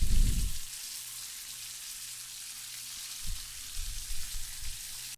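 Pork shoulder pieces browning in a hot pan give a steady, soft sizzle throughout, with a louder burst of frying at the start and a few brief stirring sounds near the end.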